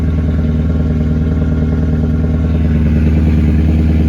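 A BMW E90 M3 engine runs loud and steady just after a spring start-up, with a deep, even idle rumble that holds close and unbroken with no talk.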